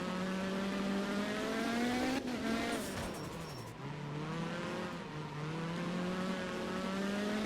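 Rally car in Art of Rally racing at speed, a loud continuous engine drone that climbs in pitch, dips as it shifts or brakes around the middle, then builds again, with faint tyre noise and no talk.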